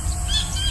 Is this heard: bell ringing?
no